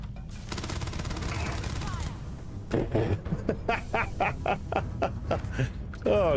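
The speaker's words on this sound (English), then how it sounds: "Oop, I hearing gunfire." Gunfire in the space game Starfield: a burst of rapid shots at the start, then a rhythmic run of sharp cracks from about three seconds on, with a voice talking over the game noise.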